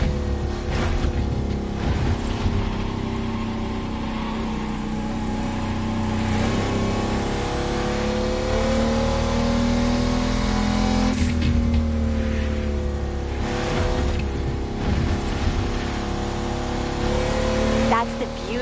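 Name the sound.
car engine revving, GNX lowrider, video game The Crew Motorfest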